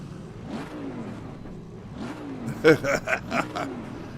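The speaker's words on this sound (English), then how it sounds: "It's another car that sounds beautiful." An Aston Martin race car engine in Assetto Corsa Competizione revs and climbs through gears, then several sharp, loud bursts of throttle blip near the end.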